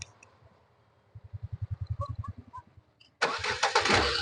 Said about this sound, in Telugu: సింగిల్ సెల్ఫ్ అయితే బండి స్టార్ట్ అవడం జరుగుతుంది